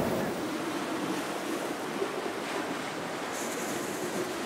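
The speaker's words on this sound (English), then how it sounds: "The waves are coming past." Sea waves roll onto the beach at Blackpool, a continuous broad wash of surf mixed with wind buffeting the microphone, steady and fairly loud with no voices.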